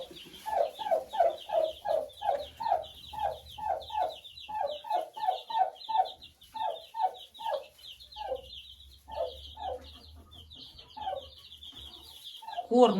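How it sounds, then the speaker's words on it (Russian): A turkey hen with chicks in a poultry pen gives a long series of soft, rhythmic clucks, evenly spaced and close, with faint higher peeps above and quiet surroundings. "А здесь индюшка с цыплятами."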